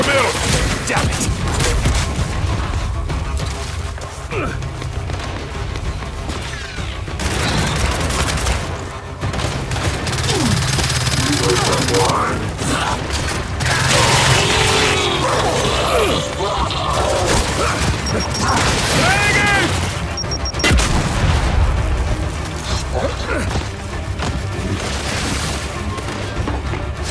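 Gunfire rattles through a Gears 5 Hivebusters firefight, dense bursts and crashes layered with explosions and game sounds over nearly half a minute, with voices shouting in between.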